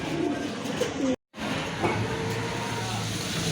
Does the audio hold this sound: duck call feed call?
no